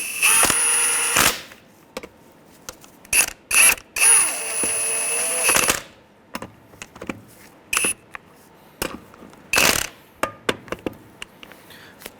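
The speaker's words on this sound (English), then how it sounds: "Come in here with our 19 millimeter. Just snug these up." A ratchet fitted with a 19 millimeter socket snugs up the lug nuts on a 2003-2011 Honda Element wheel, giving loud, close bursts of rapid clicking with short pauses and a few sharp isolated clicks between them.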